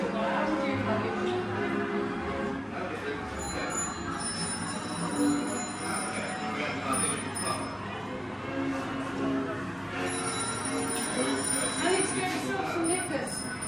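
An old-style telephone bell rings repeatedly with a bright, steady metallic trill, set among a busy, reverberant room with people talking in the background.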